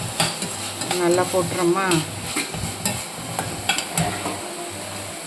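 Ingredients stir-fry in a small amount of oil, sizzling and crackling close up as a spoon scrapes and tosses them around the pan, while someone speaks briefly over the cooking.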